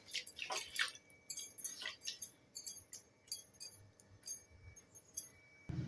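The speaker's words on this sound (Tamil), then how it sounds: "இப்போ கொதிக்க ஆரம்பிச்சிருச்சு." Water with fenugreek and black cumin seeds just coming to a boil in a pot, giving faint, sparse bubbling pops and tiny ticks close by, intermittent and quiet.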